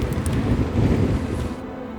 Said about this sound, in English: Little bit windy.